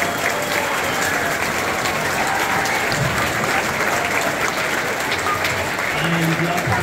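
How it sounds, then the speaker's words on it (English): Middle school orchestra students at a winter concert receive loud, sustained audience applause, a dense roar of many hands clapping throughout, with a few faint voices mixed in near the end. "Let's give a huge round of applause for all the students."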